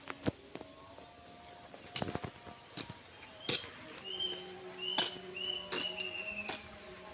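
Repeated short, high whistled calls of a kuik-kuik bird ring out over an outdoor village soundscape in Bekasi, Indonesia, with sharp clicks and knocks scattered throughout and no talking.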